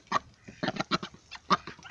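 A drake duck calling in a run of short, raspy quacks and honks, close by and fairly loud, with brief gaps between calls.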